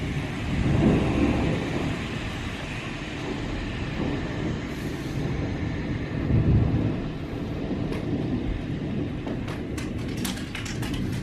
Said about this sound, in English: I think it's just a regular old thunderstorm now.